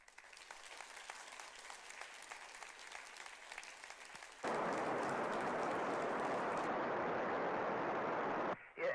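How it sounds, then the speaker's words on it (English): A round of applause at a science competition prize ceremony, faint and distant at first, then rising abruptly into a loud, steady wash of clapping that cuts off near the end. "let's give a big round of applause."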